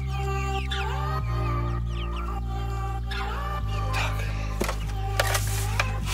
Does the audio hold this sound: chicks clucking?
yes